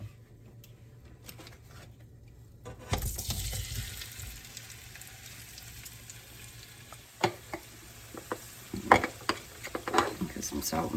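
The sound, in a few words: potatoes frying in a pan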